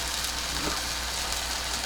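A kitchen mixer grinder spins briefly with a little water in its jar to rinse it, giving an even, continuous whirring rush that stays steady and fairly quiet throughout.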